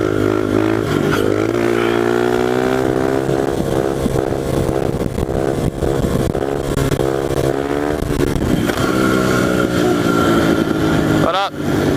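A pit bike ridden in fourth gear up a hill gives a loud, close, buzzing engine drone that climbs and dips in pitch under load, with a voice talking over it.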